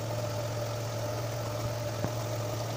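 A car engine idles during an antifreeze flush and radiator cleaning, a steady low hum with a constant tone. A single faint click sounds near the end.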